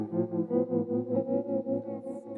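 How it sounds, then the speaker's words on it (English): Sustained guitar chord shimmering through tremolo, delay, vibrato and modulated reverb, pulsing in a steady rhythmic throb that wavers in pitch and fades slightly at the end, heard alone. "tremolo plus delay plus the vibrato plus the reverb, which also modulates"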